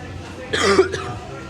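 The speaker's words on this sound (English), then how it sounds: "Sometimes I do have to cough in my vlog" A single short cough bursts out close to the mic, a brief harsh rasp over faint background noise.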